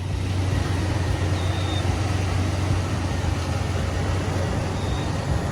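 Steady engine idle and low rumble of a lifted Toyota Tacoma pickup reversing out of a garage, a continuous even drone close by with no talk.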